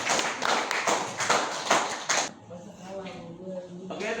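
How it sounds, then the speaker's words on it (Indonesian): Short burst of classroom clapping for a student at the end of a lesson, loud and uneven for about two seconds, then giving way to a speaking voice. "tepuk tangan buat Mas Siva."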